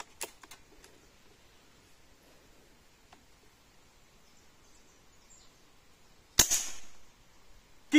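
A single sharp shot from an Artemis M25 Thunder Black PCP air rifle in 5.5 caliber firing pellets outdoors, a loud crack breaking an otherwise quiet background of faint rustling and insects.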